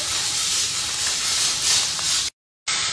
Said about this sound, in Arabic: حطيت زيت زيتون، على طول بنزل البصل